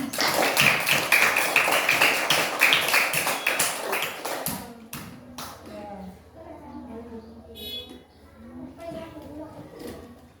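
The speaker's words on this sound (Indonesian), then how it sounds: "Oke, tepuk tangan dulu untuk kalian." A class of pupils claps hands together in a burst of dense, fairly loud applause for about five seconds, which then fades into scattered taps and a teacher's voice talking in a classroom.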